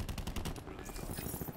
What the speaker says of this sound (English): they got a sentry gun